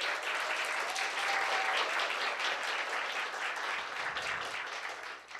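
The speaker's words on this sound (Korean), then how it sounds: "큰 박수로 환영해 주시기 바라겠습니다" An audience at a policy forum on alternative education institutions welcomes a student presenter with warm, sustained clapping, a dense and even wash of hands that fades toward the end.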